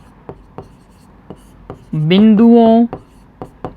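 A teacher writes on a board during a maths lesson, producing a run of sharp, evenly spaced taps and strokes up close, with a short stretch of voice in the middle.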